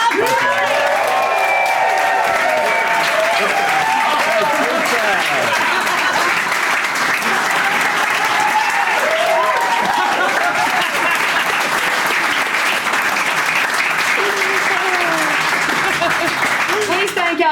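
A studio audience at a comedy panel show applauds and cheers the night's winning pair, with steady clapping throughout while a voice talks over it.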